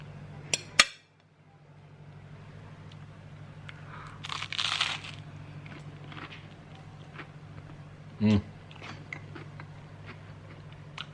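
Crunchy bites and chewing of a beans-on-toast breakfast, with a few clinks of cutlery or dishes, heard up close in a quiet room over a steady low hum.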